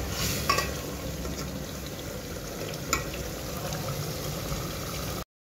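Meat for biryani simmers and fries in a pot, giving a soft, constant bubbling sizzle broken by a couple of brief stirring clinks, before the sound cuts off abruptly near the end.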